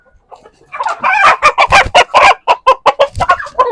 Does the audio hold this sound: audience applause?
no